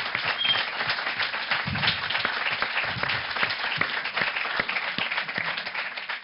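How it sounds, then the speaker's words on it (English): A crowd at a boxing event applauds steadily in dense, continuous clapping that lasts throughout, with a faint voice now and then. "I think a round of applause for Callum Smith and Joe Gallagher."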